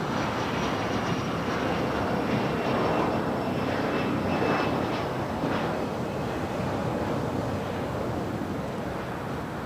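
A SkyWest airliner takes off at LAX, its jet engines producing a loud, steady broadband roar that fills the whole span with only slight swells, heard alone without voices.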